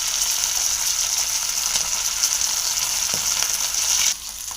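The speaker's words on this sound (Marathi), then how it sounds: "तर आपलं तेल गरम झालेलं आहे, त्याच्यामध्ये आपल्याला उडतं आहे" Fish fries in hot, splattering oil, giving a loud, steady sizzle with crackles and pops that continues for several seconds before easing a little near the end.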